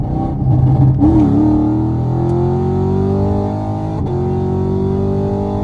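A Chevrolet Camaro SS with an FBO setup pulls hard in third gear, its loud engine note rising steadily in pitch across several seconds, with a brief dip near the start and a short shift-like blip later on.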